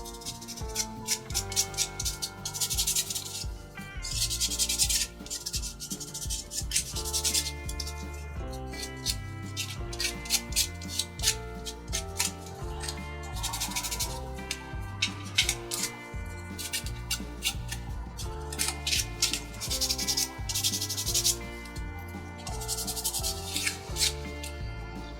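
Rough edges on the frame of a wooden 3D motocross bike model kit are sanded by hand. Close, steady rubbing strokes repeat in bursts for the whole stretch, with no talking.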